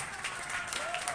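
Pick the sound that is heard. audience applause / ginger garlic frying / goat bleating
audience applause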